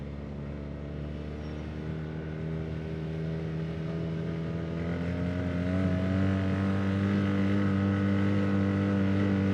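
Steady engine drone of a couple of ATVs riding a trail in the Harrison Hills, Lincoln County, Wisconsin, holding a constant hum that grows slightly louder and closer throughout, with no talking.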